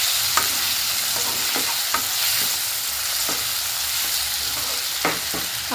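A pinch of chili powder fries in hot oil for veg kuruma, giving a steady sizzle throughout with a few soft scrapes and taps of a stirring spoon against the pan.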